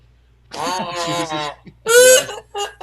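Four kazoos buzz together in two nasal, honking bursts, loud and close, with a short gap between them and no talk over them.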